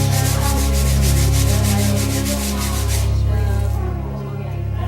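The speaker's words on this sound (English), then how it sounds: "Junya receives first-hand knowledge of the polishing process as she finishes her Mata Ortiz styled pot." Hand polishing of a Mata Ortiz style clay pot gives a steady close rubbing and burnishing sound in rhythmic strokes, fading softer toward the end with no talk.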